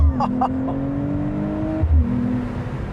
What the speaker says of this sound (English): I'm gonna just put it in sport plus for this launch